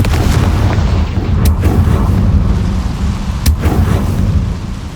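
A Confringo blasting spell cast in the Hogwarts Legacy video game, heard as two sharp fiery bursts over a loud, dense rumbling game soundscape with booming low-end energy throughout.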